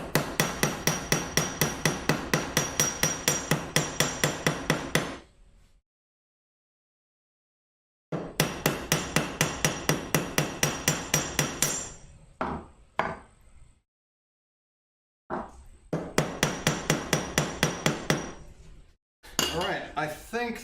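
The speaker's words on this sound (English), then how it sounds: "We shall hammer it all the same." Hammering on rough-sawn wood for a shadow box: three bursts of rapid, evenly spaced sharp blows, loud and close, separated by silent pauses, with a few isolated knocks near the end.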